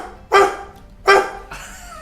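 A man imitates a dog, giving two loud, close barks about a second apart, then a softer, trailing yelp-like sound.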